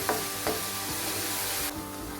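Onions frying in a pan for mushroom biryani, a steady broadband sizzle with a few sharp stirring scrapes near the start, close and fairly loud, alone without talk.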